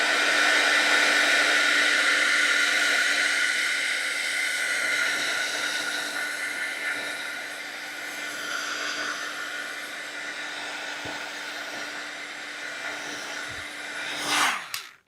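A hair dryer blows steadily and loudly on a watercolor painting, a continuous airy roar with a faint hum that slowly eases slightly before cutting off abruptly at the end; no one speaks.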